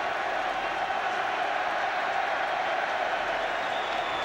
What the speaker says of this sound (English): I think he's milking the applause a bit over there.